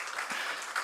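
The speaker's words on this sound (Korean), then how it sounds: "여러분 박수를 많이 쳐줘야 되는 게, 박수를 많이 치면 은퇴 이후에 은퇴를 못하고 일을 하실 것 같아." Church congregation applauding during a Sunday service, a soft, steady patter of clapping that stays faint and distant throughout the brief moment.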